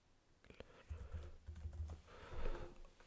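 Typing on a computer keyboard while a LabVIEW program is being built, a quiet run of close, uneven key clicks with a few louder presses, no talking.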